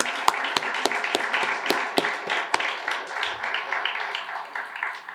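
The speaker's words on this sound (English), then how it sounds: "Let's give our guests a huge round of applause." An audience at a university convocation claps for honoured guests, with sharp individual claps standing out in a loose rhythm over a thinner spread of applause, moderately loud and somewhat distant.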